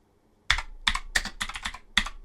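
A command being typed on a computer keyboard: a quick burst of about six crisp, close keystrokes after a brief silence.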